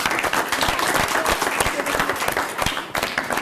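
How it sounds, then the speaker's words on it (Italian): Studio audience at a local Italian TV broadcast applauds youth football players from a 2005-born under-13 side, a dense, steady wash of many hands clapping at close range for several seconds with no talk. "Fategli un applauso, dai."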